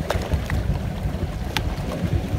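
A 2019 MasterCraft XT23 boat with an Ilmor 5000 MPI engine runs on a lake, a steady engine rumble mixed with water splash and wind buffeting, loud and continuous with no talk.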